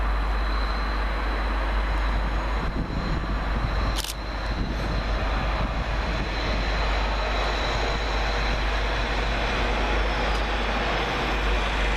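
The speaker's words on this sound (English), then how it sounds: "Departing on the far side is 755409 with the 1350 Greater Anglia service to Ipswich." Greater Anglia Class 755 unit 755409 departing Peterborough station on the far platform, a steady broadband engine and traction rumble with a constant high whine, heard at a distance and continuous throughout with a brief clunk partway.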